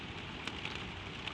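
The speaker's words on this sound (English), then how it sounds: "Behind you, the rain is on the windows. You can hear it, soft and steady, running down the dark glass" Gentle rain patters on window glass in a steady, soft hiss with occasional louder drops, quiet and continuous, with no voices.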